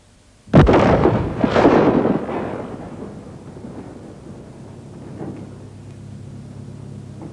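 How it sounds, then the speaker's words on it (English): A half-kilo charge of plastic explosive detonated by electric current goes off as one sharp, loud blast, followed by a second heavy burst and a long rumbling decay that fades over several seconds. "That was a ½ kilo of plastic explosives."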